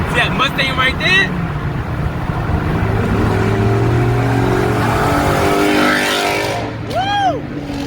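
A 2016 Ford Mustang GT with a loud modified straight-pipe exhaust revs nearby as it passes, a rumbling roar mixed with wind and road noise while people talk over it.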